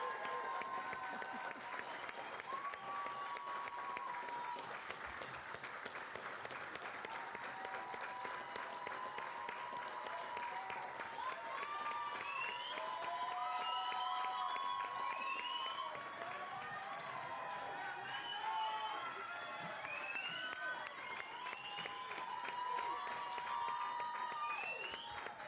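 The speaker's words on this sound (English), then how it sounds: "would you please join me in a round of applause for the graduates?" Sustained applause and clapping fill a hall for the graduates of a jail bureau class graduation ceremony, a steady crowd sound with some cheers and voices mixed in.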